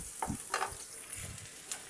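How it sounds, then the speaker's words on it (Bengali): Onions and green chilies frying in hot oil in a home kitchen, with a soft sizzle beneath a few scraping stirs of a spoon against the pan, quiet and close. "পেঁয়াজ মরিচগুলো একটু ভাজা ভাজা করে নিতেছি, নাড়ি চাড়ি"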